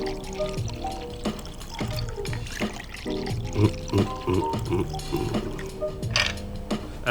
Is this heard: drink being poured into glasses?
yes